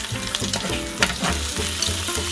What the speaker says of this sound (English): Next, we're gonna throw in that sliced ginger.